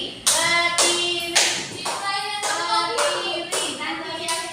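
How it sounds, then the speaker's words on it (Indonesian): A classroom of students claps a rhythmic 'tepuk semangat' routine together, a series of sharp, loud group claps in a regular pattern with short gaps between bursts. "Untuk menambah semangat kita, kita tepuk semangat dulu ayo."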